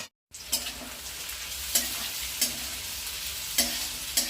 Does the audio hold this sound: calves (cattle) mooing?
no